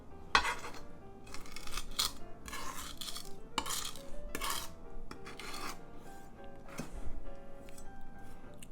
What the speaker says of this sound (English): make easy work of essentially mashing the garlic into a paste